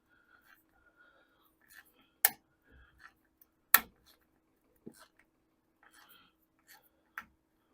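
A Craftsman ratchet backing a bolt out of a VW Beetle front beam, with sparse, quiet clicks and a few sharper metallic snaps against near silence, and faint breathy sounds in between.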